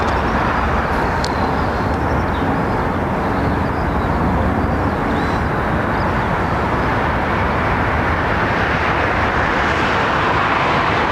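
Broadband jet roar of an aircraft arriving on runway 27R at London Heathrow, heard from some distance across higher ground, a steady loud wash of engine noise that builds gradually and holds throughout with no talking.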